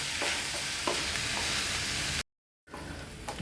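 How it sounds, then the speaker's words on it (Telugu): Onions fry in a pan for a chickpea curry, a low even sizzle with occasional stirring knocks, interrupted by a brief dead gap before the frying resumes. "అల్లం వెల్లుల్లిపాయ పేస్ట్ వేసి ఉల్లితో ఉల్లిపాయతో పాటు వేగనిద్దాము"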